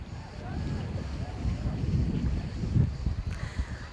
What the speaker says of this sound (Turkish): Baya bir rüzgarlı burası